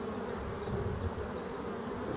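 Black bees buzz continuously at their hive, a dense, close drone of many insects with no pauses.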